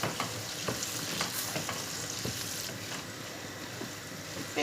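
Tomato paste stirred into a hot frying pan, a soft continuous sizzle with scattered scrapes and taps of the spoon against the pan, close but fairly quiet.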